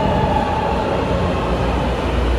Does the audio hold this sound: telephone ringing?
no